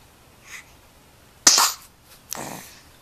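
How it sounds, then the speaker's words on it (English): A big sneeze bursts out abruptly after a faint sniff, loud and close, followed by a softer trailing breath. "That was a big sneeze."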